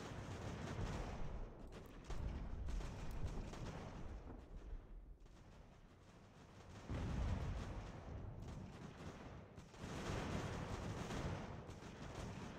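Continuous battlefield din of massed musket volleys and booming artillery in Ultimate General: American Revolution, dense crackling fire swelling and easing in waves with no voices.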